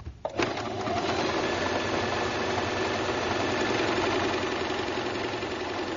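A sewing machine stitching a decorative pattern starts up with a click and then runs as a loud, steady mechanical whir with a fast rhythmic needle chatter, close and alone.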